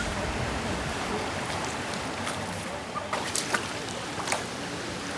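Water flowing in Jennings Creek, Virginia, on a hot day, a steady broadband rush and burble that stays even throughout, with a few brief brighter splashes near the end and no voices.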